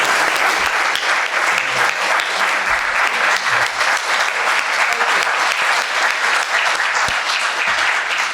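Sustained audience applause for storytellers standing in place at a storytelling event, dense even clapping filling the room without pause for about eight seconds, with no voices over it.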